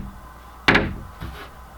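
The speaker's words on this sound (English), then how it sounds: "you'll see this door flips this way" The bathroom door of a camper swings shut with a sharp close, followed by a softer knock or rattle about half a second later.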